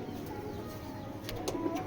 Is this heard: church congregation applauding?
no